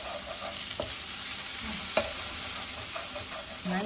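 Eggs stirred and spread in a frying pan during a cooking class at an Indian kitchen in Kochi, a steady sizzle with a few scraping clicks from the utensil, close and moderately loud with no talking.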